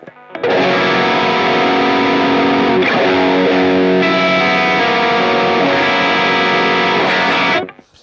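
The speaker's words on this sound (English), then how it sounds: "how you can hear every single note in a very complex chord with a pretty heavy distortion tone" Heavily distorted electric guitar through a Mesa/Boogie Mark series amplifier rings out in sustained complex chords, thick and saturated yet note-distinct, loud and close, with a brief chord change midway before cutting off.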